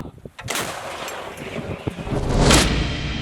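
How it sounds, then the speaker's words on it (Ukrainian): Howitzer artillery firing in combat in Donbas: a sharp, loud blast followed by a second heavy boom a couple of seconds later, with rolling rumble and wind noise between. "Щільний вогонь цієї гаубиці миттю викурює ворога з насиджених місць"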